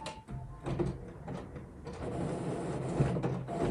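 A printer starting up on its own, giving a series of mechanical clunks and whirring at first, then settling into a steadier hum of moving parts, fairly quiet and close, with no talk.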